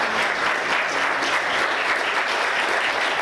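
A church congregation applauds loudly and continuously, a dense, even wash of many hands clapping close by with no pauses throughout.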